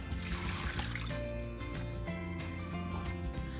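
Water pours and trickles into a bowl, a close, gurgling splash that runs steadily for a few seconds, with faint clinks in the background.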